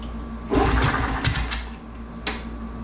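Honda CT70 motorcycle being kick-started after a carburetor adjustment, with a short burst of mechanical clatter and sputter that dies off, followed by a brief second rasp, up close.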